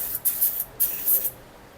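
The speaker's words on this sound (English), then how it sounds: "I'm going to take some suspension clean from Maxima and spray that inside" Several short hissing bursts of Maxima suspension cleaner sprayed from an aerosol can inside an Ohlins motorcycle fork, in quick uneven pulses close to the microphone, with nothing else audible.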